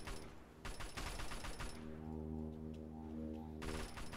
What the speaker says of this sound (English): A lot of shooting in the background.